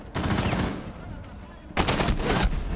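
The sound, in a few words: gunfire from a video game match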